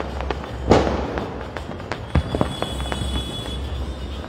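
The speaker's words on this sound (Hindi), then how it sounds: "दीप जले लेकिन आग और पटाखे" Diwali firecrackers and fireworks burst outdoors in Una, a scatter of sharp cracks and pops, one louder bang early on, then quicker irregular bursts over a noisy background.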